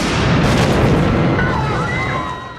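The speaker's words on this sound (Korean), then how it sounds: "폭발의 굉음과 함께 추락하기 시작하는 엘리베이터." A bomb blows up an elevator in the film Speed. A loud, dense, roaring blast fills the whole clip and then slowly fades, with thin metallic screeching tones rising near the end.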